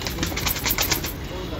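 Rampuri pigeons coo in a soft, repeated throaty rhythm close by, with a steady low background hum throughout.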